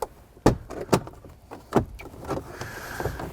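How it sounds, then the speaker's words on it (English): A plastic car interior trim panel beneath the shifter is pried loose, giving several sharp, close plastic snaps and clicks in quick succession, followed by softer rattling handling noises. "And you can see it just pries out of there."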